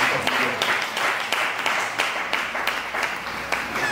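A church congregation claps in praise of the Lord, steady rhythmic applause at close range that carries on throughout at an even level, with a few scattered voices mixed in.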